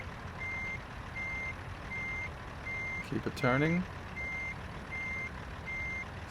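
A reversing truck sounds a steady run of evenly spaced electronic backup beeps over engine rumble, with a brief louder burst of mechanical noise partway through and a voice speaking faintly.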